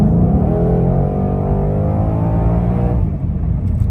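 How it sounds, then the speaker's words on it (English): A Ford Mustang Shelby GT500 on Cup 2 tires accelerates toward highway speed on a cold day, its engine drone rising steadily in pitch with a gear change near the end, loud and close, with no speech. "as we get up to a little bit of a roll here, accelerate in the Mustang"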